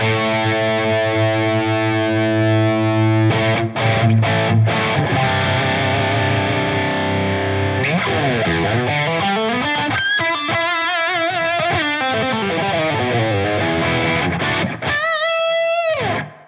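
Heavily distorted electric guitar run through a TONEX amp model with its bass control boosted around 210, giving a thick low end; sustained chords, riffs and bends ring out loudly for the whole passage with no talking.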